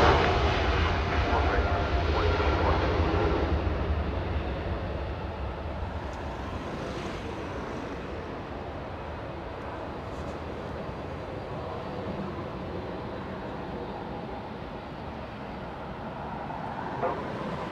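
Jet engines of a Lufthansa airliner roar on takeoff from Los Angeles International Airport, a broad rumble loudest at first and slowly fading into the distance, with a voice talking over it.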